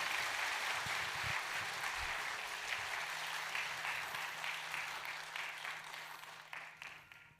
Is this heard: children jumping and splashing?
no